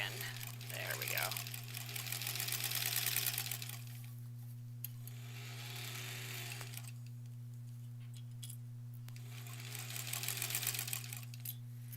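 A sewing machine with a worn rubber motor pulley wheel runs in steady whirring bursts that ease off and pick up again, with a constant low motor hum underneath.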